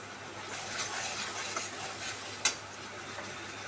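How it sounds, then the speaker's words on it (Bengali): Spice paste for doodh potol being stirred and fried in a pan, a soft steady sizzle with gentle scraping strokes and one sharp utensil clink, quiet and close with no talking. "এবারে মশলাটাকে ততক্ষণ নাড়াচাড়া করে কষিয়ে নেব"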